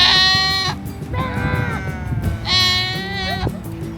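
Free-grazing goats in the Altai Mountains of Mongolia bleat loudly and close by, three long wavering calls in succession from what sounds like a large herd, with a low murmur of background noise between them.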